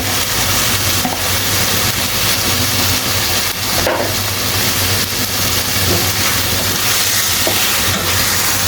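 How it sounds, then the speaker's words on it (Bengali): Goat meat cooked village style fries loudly in oil in a pot while being stirred, a dense, constant close sizzle with occasional scraping knocks. "খুব ভালো মতো করে আমরা মাংসগুলোকে কষিয়ে নিচ্ছি।"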